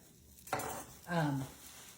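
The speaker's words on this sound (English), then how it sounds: "Scooping it out, not filling it quite to the top." A half-cup measuring cup scoops pancake batter, giving a sharp clink and scrape followed by soft sloshing, with a voice speaking briefly near the end.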